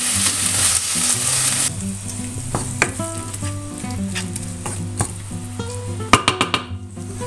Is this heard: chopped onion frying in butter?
yes